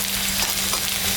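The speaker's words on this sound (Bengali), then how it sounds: "পেঁয়াজটাও আমি দিয়ে দিলাম।" Chopped onions fry in hot oil with cumin seeds, dried red chilli and bay leaf, the base for a katla fish curry, giving a steady, close sizzle that holds evenly throughout with no voices.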